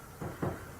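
An old door in an abandoned building swings open, giving two short muffled creaks or thuds about a fifth of a second apart against a quiet hiss.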